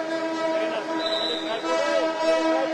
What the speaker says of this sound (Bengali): ইতিমধ্যে একটি ট্রেন আসছে,